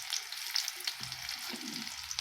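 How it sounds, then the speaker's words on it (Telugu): Tempering spices (popu) frying in a pan give a steady close sizzle with faint stirring clinks and scrapes, and no talking. "ఈ పోపు వేగుతుంటుంది"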